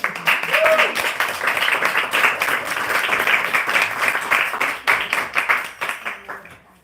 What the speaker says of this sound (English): if you can give her a round of applause, she'll come on up here